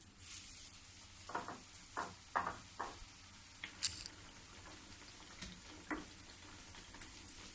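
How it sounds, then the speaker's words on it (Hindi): Chana dal laddoo mixture, pressed thin, fries quietly in a kadhai with faint, scattered crackles and pops over a low hiss, fairly soft and alone. "फिर मैं इसको इसी तरह पतली कर करके कढ़ाई में डालूंगी"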